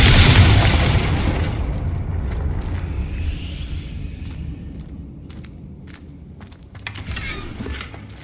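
A Confringo explosion spell in the video game Hogwarts Legacy, a loud booming blast at the start that rolls into a long fading rumble, followed by scattered game effects and faint steps.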